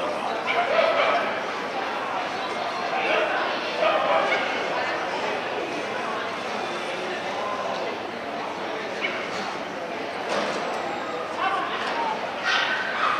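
Dogs bark and yip intermittently at an agility competition at the Westminster dog show, set against crowd noise while people talk through it.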